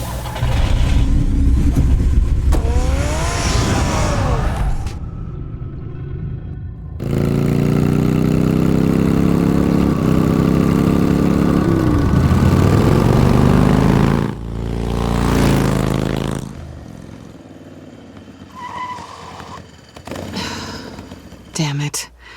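A car engine in Batman: The Telltale Series revs loud and close, with rising and falling harmonics, then idles and fades under game sounds and brief voices.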